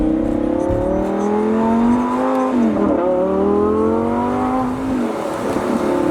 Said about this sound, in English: I'm gonna see how my shifting has improved with the new VF Engineering software for my Gallardo.